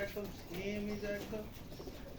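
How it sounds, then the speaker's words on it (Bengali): Pigeons kept at a loft of colour-matched racing birds give low, rolling coos in a steady rhythm, nearby and fairly quiet, with faint background voices. "অনেক কবুতর এখানে দর্শক দেখতে পাচ্ছেন অনেক"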